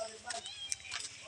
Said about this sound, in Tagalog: Ito po, yan yung pusa ko.